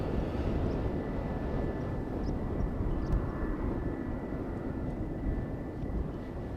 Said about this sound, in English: the Finnair Airbus also getting closer to the runway threshold